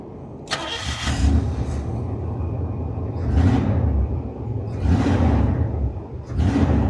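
A 1982 Buick Estate Wagon's engine cranks and catches, then settles into a rough, rumbling idle close by. The revs rise and fall in several surges.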